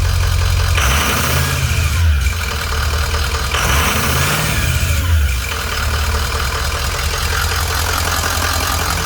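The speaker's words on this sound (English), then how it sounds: "Got good oil pressure, high steady idle." A 2005 Ford 6.0L Powerstroke turbo diesel idles high and steady up close, its low rumble punctuated by two brief throttle swells before settling back to an even idle.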